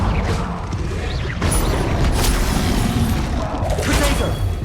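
Incendio fire spell cast in Hogwarts Legacy, bursting as loud booming whooshes with crackling flame at the start, around 1.5 seconds and again near 3.7 seconds, layered over continuous game effects.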